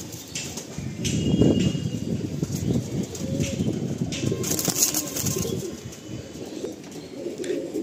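Pigeons, Kaldom and Fulsira breeds, cooing close by in a steady low murmur of overlapping coos with occasional faint wing flutters and rustling, no talk.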